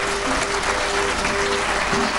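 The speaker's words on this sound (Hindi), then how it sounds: "एक बार जोरदार तालियां इस बात के लिए" Dense, sustained applause fills a large hall at a Hindi poetry gathering (kavi sammelan), a steady, loud wash of many hands clapping with a faint tonal hum beneath.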